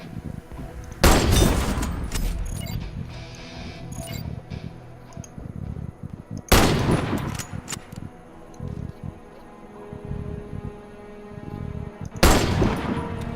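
Sniper rifle fire in the video game Warface: three loud, sharp shots spaced several seconds apart, each with a brief ringing tail, over steady game ambience with small clicks and handling noises between them.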